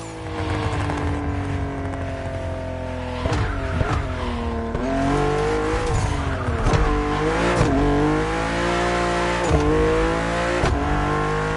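A BMW car drives and accelerates hard, its engine revving up through repeated rising sweeps with brief drops between gear changes, loud and close with no voices.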